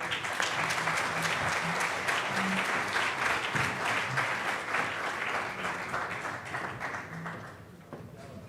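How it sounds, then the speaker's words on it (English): Audience at a pharmaceutical conference applauding steadily for several seconds, a dense even patter of many hands that gradually thins and fades toward the end. "I request everyone to give a big round of applause"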